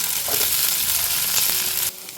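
Bitter gourd sautéing with ginger garlic paste in a hot pan gives a steady, loud sizzle and fry with occasional stirring scrapes, then a brief drop in intensity near the end. No voices are heard.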